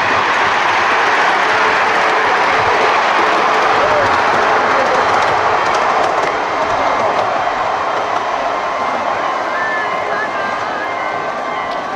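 A small sightseeing train runs on the rails at Sheng Hsing station in Taiwan, giving a steady, loud rolling rumble with faint clickety-clack throughout and a brief squeal near the end.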